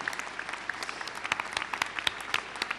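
An audience applauds at a children's television channel's 2014 programming launch event, a dense patter of many hands clapping at moderate distance, steady and fairly soft throughout.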